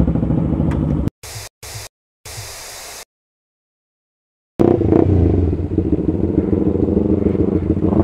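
Honda CBR150R fitted with an SC Project muffler without its silencer, a loud raw exhaust roar that starts, cuts into short bursts, drops out for about a second and a half, then returns as a steady rumble.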